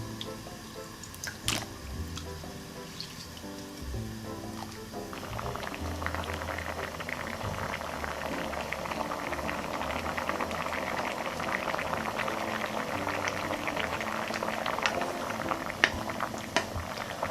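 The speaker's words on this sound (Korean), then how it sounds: "물이 끓고 있고요." Water boils steadily in a pot for cooking lotus root, with bubbling and popping that grows busier and louder after the first few seconds.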